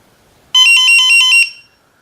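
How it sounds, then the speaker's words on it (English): An ISDT BG-8S battery checker sounds its low cell voltage alarm: a bright, tonal electronic beeping in a rapid pulsing burst lasting about a second, loud and close, then fading out to quiet. "When any of the cell goes below the set minimum voltage, it does sound the alarm."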